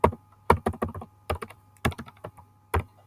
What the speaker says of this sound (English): So I'm going to type in that long number that's on your library card